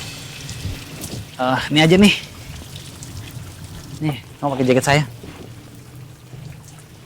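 Steady rain pours down throughout, a constant hiss beneath two people talking at close range.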